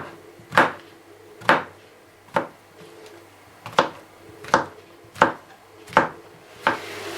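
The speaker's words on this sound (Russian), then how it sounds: "Грибы мне надо мелко порезать." Knife chopping mushrooms finely on a cutting board, about nine sharp, evenly spaced thuds repeating roughly every three-quarters of a second, close and clear with no talk.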